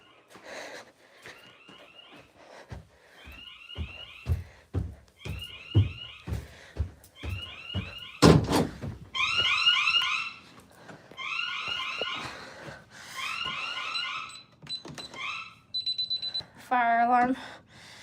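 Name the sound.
fire alarm going off in the house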